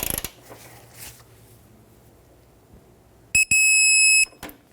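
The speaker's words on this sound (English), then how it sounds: "I have a digital torque wrench that reads degrees" A digital torque wrench turning a bolt on a 2012-2019 Fiat 500 front lower control arm, with quiet handling noise followed by a loud, steady electronic beep tone of about a second near the end.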